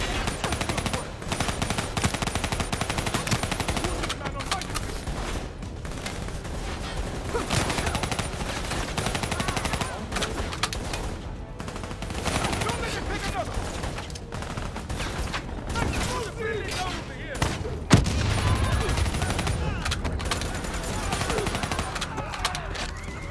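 Sustained machine-gun bursts hammer away from a gunner positioned up top in a Call of Duty Black Ops 3 firefight, dense and continuous, with battle noise and brief voices mixed in throughout.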